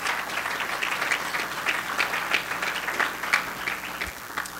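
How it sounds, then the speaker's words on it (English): An audience at the TiEQuest 2012 awards gala gives the mentors a round of applause: steady, moderately loud clapping from many hands, with a few crisp claps standing out. "If I could please have a little round of applause."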